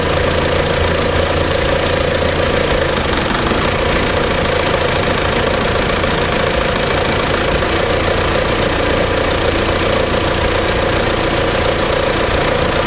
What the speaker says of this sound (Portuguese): Executaremos o corte do primeiro injetor e verificaremos sua queda de rotação.